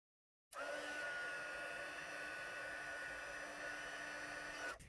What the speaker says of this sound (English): And then I'm going to heat emboss that with the white embossing powder.